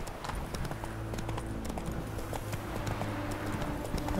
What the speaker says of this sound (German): Ja, wir reiten einfach querfeld ein